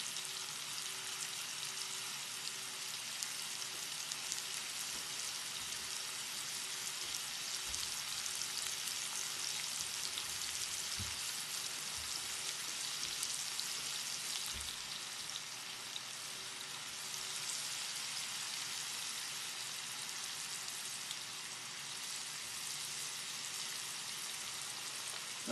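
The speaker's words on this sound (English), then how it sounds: "I'm going to let the shrimp cook" Shrimp sizzling in a hot pan for spicy shrimp with mango, a steady crackling fry that carries on alone throughout with faint scattered pops.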